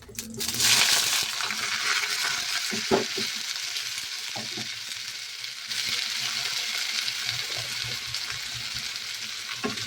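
Cauliflower tipped into hot oil with asafoetida and cumin, a loud burst of sizzling at the start settling into steady frying crackle, with occasional clinks and scrapes of stirring.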